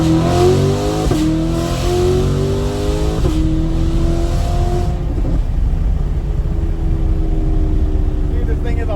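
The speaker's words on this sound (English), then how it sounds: "That exhaust opens up so nicely." A Chevrolet C8 Corvette's tuned exhaust roars loudly at full throttle, pitch climbing through several gear shifts, each marked by a quick drop before rising again.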